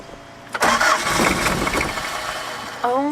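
A diesel Chevy Luv engine with glow plugs cranks and catches with a loud, close, churning roar that settles into a rough run, and a brief voice is heard near the end.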